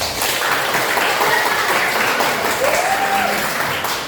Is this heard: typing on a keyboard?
no